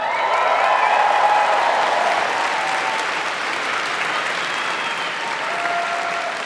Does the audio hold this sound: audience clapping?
yes